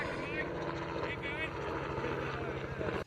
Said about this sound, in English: Oh, there's a helicopter coming.